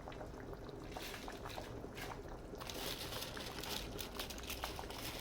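Chinese cabbage goes into a pot of boiling bulalo beef soup, a soft wet bubbling and splashing that grows a little louder midway, faint and continuous.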